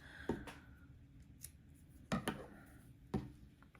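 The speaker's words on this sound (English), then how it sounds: "I'm going to cut my yarn, leaving a nice long tail" Scissors snipping knitting yarn after finishing gloves, three or four quiet, sharp close-up snips spaced over a few seconds.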